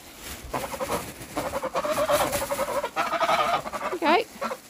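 Geese honk close by while being fed. Loud, nasal, repeated honks and calls come in uneven bursts from several birds, with a short pause between groups.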